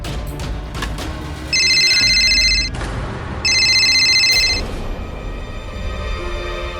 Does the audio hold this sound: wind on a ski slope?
no